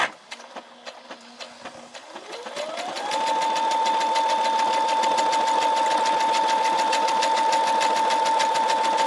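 A Brother SE630 sewing and embroidery machine starting up: a few soft clicks, then a motor whine rising to a steady pitch with rapid, even stitching pulses, running close and alone.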